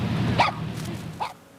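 A dog barks at driving blizzard snow, giving two short sharp barks about a second apart over a low blustery background, close and clear.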